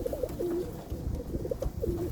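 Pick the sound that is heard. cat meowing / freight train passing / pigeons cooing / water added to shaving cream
pigeons cooing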